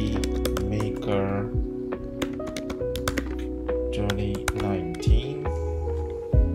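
Fast typing clatters on a Mac computer keyboard, the keys tapping close and crisp in quick irregular runs, broken by a few brief pauses and heavier strokes.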